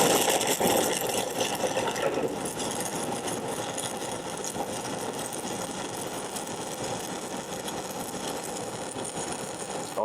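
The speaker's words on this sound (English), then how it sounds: "That work angle that I have allows my electrode to burn with me pushing it forward" A stick welding (SMAW) electrode burns in a continuous arc as the weld is pushed forward along a joint. The crackle is dense, steady and close, with no pauses.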